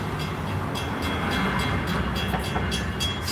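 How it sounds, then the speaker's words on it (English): A passing train rumbles and rattles loudly and steadily close by, with rhythmic bright clatter riding over the low roar throughout. "Fucking train sound. Ding, ding, ding, ding, ding."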